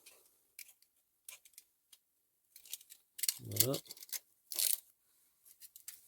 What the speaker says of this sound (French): On va enlever le petit scotch.